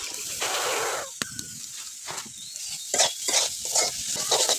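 Taro leaves (kochu shak) frying and being stirred in a village kitchen: bursts of hissing sizzle alternate with sharp clicks and scrapes of the spatula against the pan, close and fairly loud.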